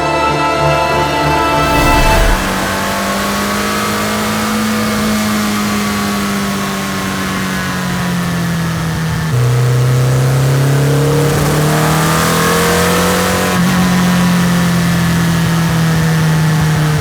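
Alpine sports car, a stripped-down road-going racer, revving hard near the microphone, its engine note rising and falling through several long sweeps with a loud, sustained drone and no talk.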